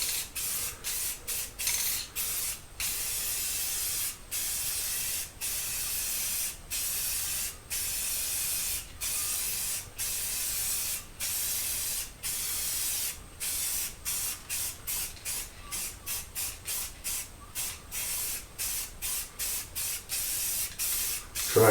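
A light first coat of paint sprayed onto a steel clad exterior workshop door, close, steady spray-gun hissing in repeated bursts separated by short regular pauses, with no talking.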